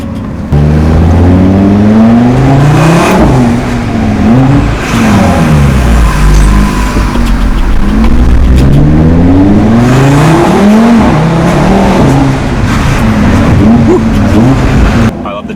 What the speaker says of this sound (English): We'll get a nice exhaust clip down here. We'll make it pop.